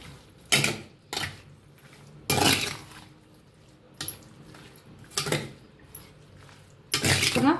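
Kosambir salad with curd, peanuts, salt and sugar stirred with a spoon in a bowl: a series of short scraping and clinking bursts at irregular intervals, close and clear, with quiet gaps between.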